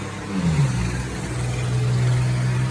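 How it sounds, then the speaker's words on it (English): A heavy truck engine roars close by, its deep rumbling pitch shifting as it passes, loud and continuous with no talk. "that loud truck just irritated me now"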